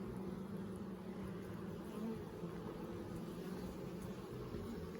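Honey bees humming steadily around a newly opened beehive during an inspection, a dense continuous buzz close by that holds at an even level throughout.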